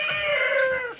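A chicken being slaughtered lets out a single strained, high squawk that holds for about a second, loud and close with nothing else around it.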